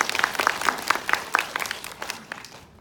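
An audience at a Korean lecture on computing education gives a short round of applause, a burst of close clapping that thins out and fades after a couple of seconds.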